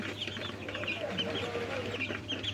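Flock of 29-day-old chickens on a poultry farm clucking continuously at moderate distance, many overlapping calls in a busy, steady chorus.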